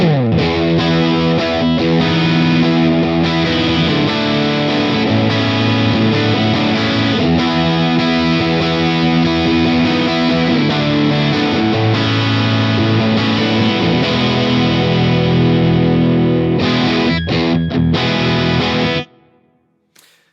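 Loud, dry distorted electric guitar through a Line 6 Helix with delay off plays chugging chords and riffs steadily for about twenty seconds, then cuts off with a brief final hit.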